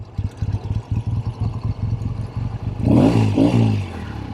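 A restored 1964 Triumph Bonneville T120 motorcycle engine idles close by in an uneven, loping thump-thump rhythm, then is revved into a louder rising roar before settling back.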